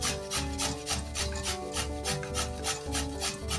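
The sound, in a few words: grating sweet potato and potato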